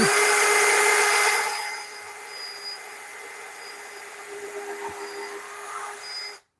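A power drill whines loudly at first, then settles into a lower, steady hum before stopping abruptly, close by with no talking.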